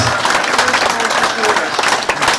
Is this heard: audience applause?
yes